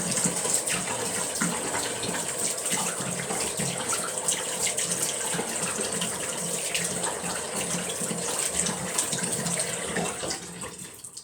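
Steady rush of running tap water used to wet hair, loud and continuous at close range, tapering off at the end.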